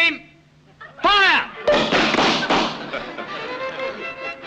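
Firing squad volley in a dramatic film scene, a loud burst of shots around the one-second mark followed by echoing thuds and rumbling, after a voice shouts commands.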